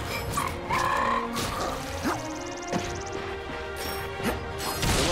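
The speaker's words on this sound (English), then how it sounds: "Look at him, smashing crates." Wooden crates are smashed in the Ratchet & Clank PS4 game on Veldin, giving a run of loud crashes and whacks with swooshes and tonal game effects layered over background music.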